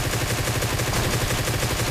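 Sustained M249 light machine gun fire in the mobile game PUBG Mobile, a dense, continuous rapid burst, loud and unbroken, with no speech.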